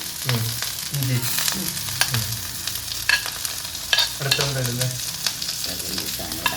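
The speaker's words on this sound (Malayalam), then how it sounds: "ഇത്തിരി എണ്ണ ഒഴിച്ച്. നല്ലെണ്ണ തന്നെ. പച്ചമുളക്, ഇഞ്ചി," Green chilli and ginger frying in sesame oil in a pan, a steady close sizzle with repeated stirring scrapes and clinks of a spoon against the vessel, no talking.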